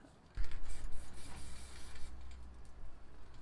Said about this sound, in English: So what you want to do is spray a bit onto your fingers here.